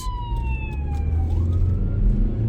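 An ambulance siren wails through city traffic, a steady tone sliding down in pitch as it passes, loud over the rumble of a car interior and road noise.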